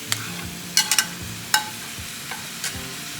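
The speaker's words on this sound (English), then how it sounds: "You hear it sizzling?" A steady low sizzle of pineapple chicken frying in a pan, punctuated by a few sharp scraping clicks of a utensil stirring.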